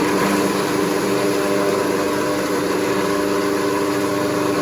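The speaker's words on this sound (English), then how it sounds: "Tip that into the food processor." A loud, steady motorized whir of a food processor blending chickpeas into hummus, continuous and close, with no voices.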